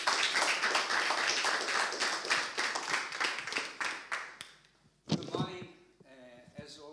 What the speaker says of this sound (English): please give a round of applause to Fabio.